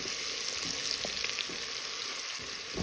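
Onions with a pinch of salt sauté in a pan for lentil soup, a steady, close hiss of frying broken by the scrape and clack of occasional stirring, with no talking.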